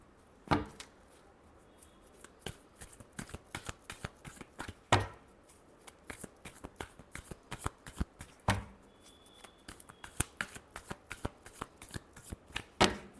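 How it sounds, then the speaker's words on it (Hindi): Tarot cards being shuffled by hand, with repeated sharp riffling bursts and soft slaps spaced across the stretch, close and clear in a quiet room. "last shuffle"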